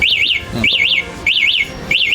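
A loud electronic electric bike alarm warbles in repeated rising-falling bursts, sounding four times in quick succession, close and piercing.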